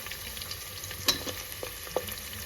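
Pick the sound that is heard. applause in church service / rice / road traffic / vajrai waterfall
rice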